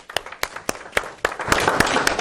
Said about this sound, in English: So give her a round of applause here.